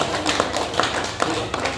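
An audience at a religious gathering applauds, a dense, steady burst of many hands clapping together for a couple of seconds, fairly loud.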